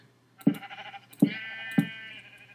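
Sheep in the Minecraft video game give three short bleats, spaced apart and moderately loud, with a thin tonal tail after the second call.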